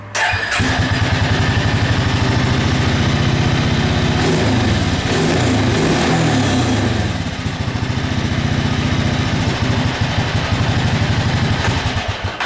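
A John Deere riding mower engine runs at idle after the idle speed was adjusted down, a loud, steady, close-up rumble with a fast regular pulse, heard alone.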